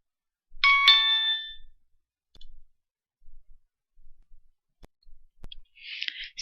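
Incoming SMS text message notification on a phone during a messaging-campaign software demo: a bright, tonal chime burst up front, followed by faint scattered clicks and a short buzzy tone near the end, with no talking.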